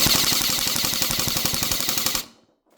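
A gun fires on full auto in a rapid, loud, even burst of shots lasting about two seconds, then cuts off abruptly into near silence.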